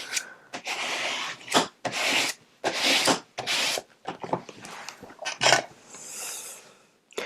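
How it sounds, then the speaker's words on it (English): Bone folder burnishing paper onto a composition book, with repeated short dry rubbing strokes in an uneven rhythm, close and fairly loud with brief pauses between them. "I'm going to take my bone folder and I'm just going to burnish this down really good"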